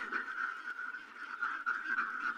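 Ducks on a small duck farm quack continuously as they are let out, a steady overlapping chorus of nasal calls at moderate distance.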